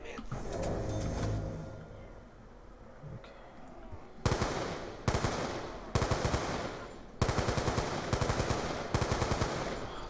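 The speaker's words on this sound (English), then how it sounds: "This sounds like a real gun." Gunfire in Call of Duty: Black Ops 2 on the Buried map, with loud rapid automatic bursts in several separate volleys after a rumbling, murky opening, and faint background sound underneath.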